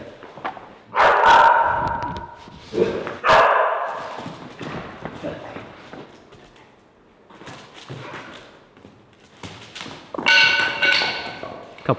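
Shop dogs barking in bursts, loud and close, with a couple of sharp volleys separated by quieter gaps, in a workshop during a composite enclosure build in the early morning hours.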